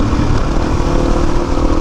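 A dirt bike fitted with slick tyres runs loud and close, its engine giving a continuous buzzing drone with a slight throbbing rhythm and no break.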